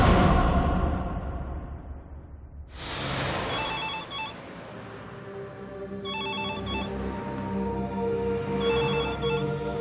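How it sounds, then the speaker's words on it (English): A telephone bell rings in short repeated bursts against a dramatic musical backdrop, following a sharp crash, with no voices over it. "Michel Tolles receives a phone call from his son Fabio."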